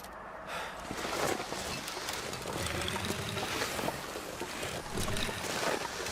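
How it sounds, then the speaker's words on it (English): Wind blows through a snowy canyon in The Long Dark, a continuous rushing, gusting roar with a hissy texture that swells and eases slightly, moderately loud and steady throughout with no voices. "especially since it sounds very windy"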